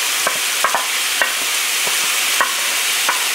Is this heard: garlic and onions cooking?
yes